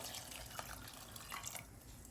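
Water is poured into a pot of still-tough peas for Jamaican rice and peas, making a steady, faint splashing trickle with no talk over it.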